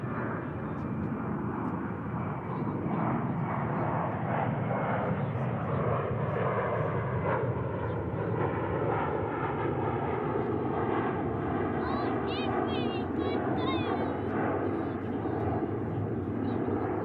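An Airbus A321 airliner at Dallas Fort Worth airport gives a steady, broad engine roar that holds for the whole stretch, with faint speech and birds chirping over it.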